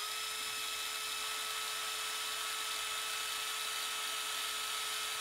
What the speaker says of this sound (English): I'm going to be using a size 8 drill bit